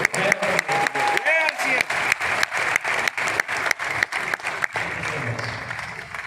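Loud applause from a seated audience at a Vijay Diwas speech event, steady dense clapping with rhythmic surges, a voice talking over it near the end.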